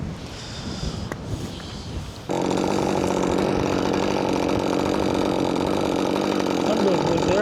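A 550 chainsaw cutting up rotten hardwood blocks at a cabin: quiet ambience with a faint voice, then the saw abruptly roars to a loud, steady high-pitched whine that holds to the end.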